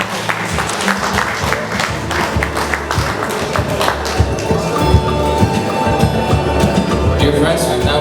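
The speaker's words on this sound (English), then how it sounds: "a big round of applause to our keynote speaker" A large assembly crowd in Baguio City applauds steadily for a keynote speaker, Senator Bongbong Marcos, the dense clapping sustained and loud for the full stretch with a few cheers mixed in.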